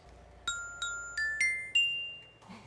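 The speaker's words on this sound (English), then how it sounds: "Oh, that's a glockenspiel, Tom Tom." Metal glockenspiel bars struck with mallets, five bright ringing notes climbing in a short rising run over a quiet background, each tone decaying gently.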